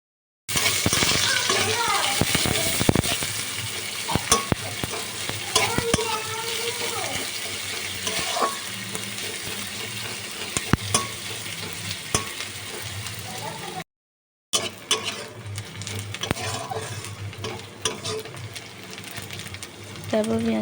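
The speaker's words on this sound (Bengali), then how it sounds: "তারপর পেঁয়াজ কুচিগুলো দিয়ে বেশ ভালোভাবে লাল লাল করে ভেজে" Chopped onions frying in a pan with green chilli and sugar, a loud, steady sizzle close by with stirring scrapes, briefly cut off midway, a voice talking now and then.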